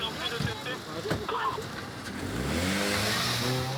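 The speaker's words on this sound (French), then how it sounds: "La voiture banalisée se lance à leur poursuite." An unmarked police car accelerates to give chase on a city street, its engine revving up and climbing in pitch through the second half, after brief traffic and voice noise.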